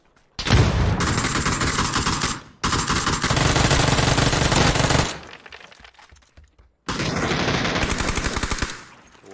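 Rapid bursts of automatic gunfire from a shooter video game, loud and dense in three long volleys separated by short pauses, with softer scattered shots in between.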